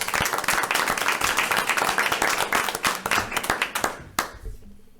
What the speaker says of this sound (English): would you join me in a round of applause for Mr. Moss?